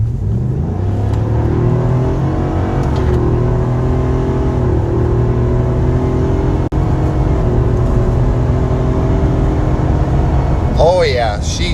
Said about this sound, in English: We'll go ahead and do a quick pull on the F-250 real quick.